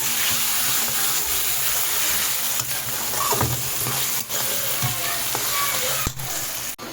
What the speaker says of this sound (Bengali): এখন আমি তেলটাকে বেশ ভালোভাবে ভাজা ভাজা করবো